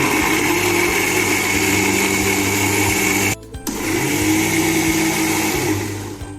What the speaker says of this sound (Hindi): अब मैं इनको पीस लूँगा अच्छे से।